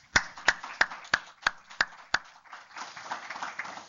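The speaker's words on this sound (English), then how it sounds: "So if you join me in a round of applause" A small group claps in a round of applause at a dance class for people with Parkinson's, starting as about seven sharp, evenly spaced claps that give way to softer, scattered clapping.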